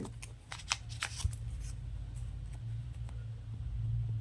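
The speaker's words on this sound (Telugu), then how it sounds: "ముందుగా పేపర్ 1 అయితే ఓపెన్ చేయండి" A small paper cleaning wipe packet for a DJI Action 2 screen protector is torn open up close, giving a quick run of faint crinkles and tearing rustles that trail off into quiet room noise.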